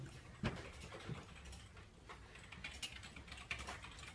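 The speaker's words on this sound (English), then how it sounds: "Everybody's hard at work, typing away." Office workers type on computer keyboards in a quiet editorial office in Leeds, a faint, steady patter of scattered key clicks with a few sharper taps and no talking.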